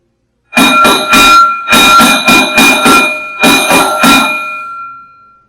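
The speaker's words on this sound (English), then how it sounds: "I'm going to do a 3-5-3, which is a thelemic knock on this bell, which is a bowl." A bowl-shaped bell is struck in a 3-5-3 pattern: three ringing knocks, a pause, five knocks, a pause, then three more, each strike leaving a bright sustained tone that fades slowly at the end.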